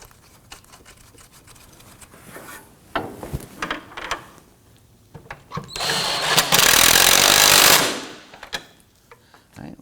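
Shock absorber nut on a rear shock of a 2015-2024 Nissan Murano being run down with a power tool: scattered metallic clicks and clanks, then one loud sustained whirring burst of about two seconds, followed by more close handling taps.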